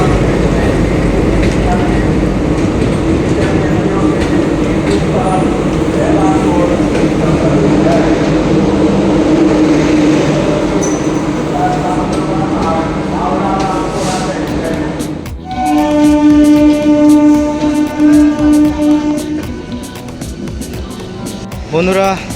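The Sahid Express, hauled by a WAP7 electric locomotive, runs with a loud, continuous rolling rumble. Partway through, the tone shifts to a steadier droning whine as the train carries on.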